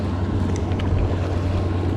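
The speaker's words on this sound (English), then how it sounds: "These will be some wakes." Boat wakes slapping and washing around a paddle board near mangroves on the Indian River flats, a steady close wash of water under constant wind buffeting the microphone, with a low drone throughout.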